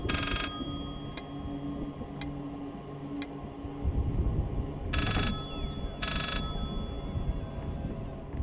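A telephone rings in the horror game Layers of Fear, with short repeated bursts of ringing over a low droning game ambience, and no one speaks.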